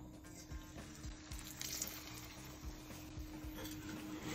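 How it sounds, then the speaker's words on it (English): Murasaki sweet potato latkes frying in a pan, a faint soft sizzle with light clinks and stirring taps over a low steady hum, quiet and close. "Fry the Murasaki sweet potato latkes."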